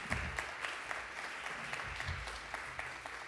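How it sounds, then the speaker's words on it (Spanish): An audience at a women's forum applauds to see off a doctor who has just spoken, steady mid-level clapping from a modest crowd with a few sharper individual claps standing out. "la despedimos con un aplauso"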